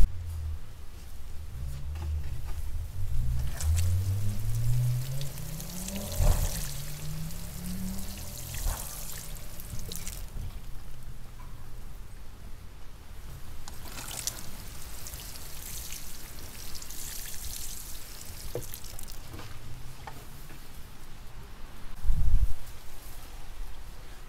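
Water poured from a can over newly planted sweet peas in a garden: a steady patter and splash of water on soil and leaves that runs for the whole stretch, with a few louder knocks and thuds along the way.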